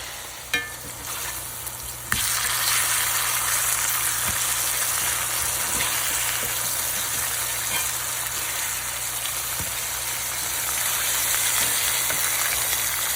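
Fresh farm eggs fry in a pan for a country breakfast, a close, steady crackling sizzle that swells suddenly after a quieter start and then continues without talk.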